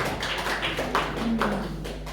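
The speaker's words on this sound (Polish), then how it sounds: "Wielkie brawa" A small audience at a care-home Independence Day poetry recital claps after a poem, a brief, scattered patter of close hand claps lasting about two seconds.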